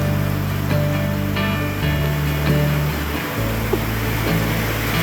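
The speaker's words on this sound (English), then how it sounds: "It's just pouring." Heavy rain pours down in a continuous, loud hiss during a rainy season, with a low hum running underneath and no voices.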